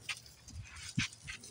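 Faint, soft whimpers come from one of several pocket bully dogs indoors: brief high cries over a low background hum, with no one speaking.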